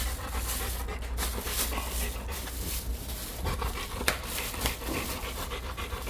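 A large Rottweiler panting close by, rapid rhythmic breaths running continuously with small shuffling noises as the dog moves around.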